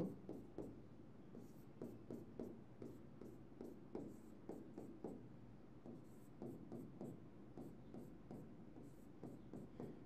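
A chemical equation being written out by hand, heard as quiet, rhythmic scratching strokes with short pauses between them, steady and close throughout.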